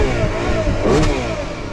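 A Ferrari 12Cilindri's V12 is revved once while parked with the handbrake on, giving a loud, close engine note that swells to a peak near the middle and eases off.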